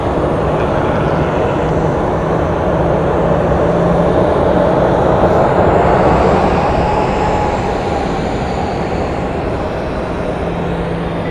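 A Delta airliner taking the runway at Phoenix Sky Harbor Airport gives a loud, steady jet-engine roar that swells slightly in the middle and holds on without a break.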